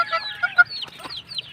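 Pet chicks in a small backyard coop cheep and cluck softly after being fed, a few short high chirps and peeps close by, with no voices.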